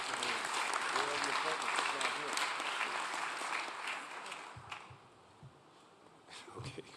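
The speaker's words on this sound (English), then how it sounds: "If we give the governor a great round of applause." Audience at a governors' conference plenary applauding a governor, a dense sustained round of clapping for about five seconds that fades into quieter room noise and a few scattered claps.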